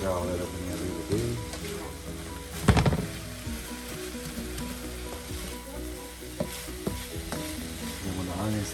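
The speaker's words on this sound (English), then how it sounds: "Stir all that up in there really good." Frying onions for Cambodian banh xeo hiss steadily in a pan as a spatula stirs and scrapes, with occasional louder clanks and a voice faintly under the sizzle.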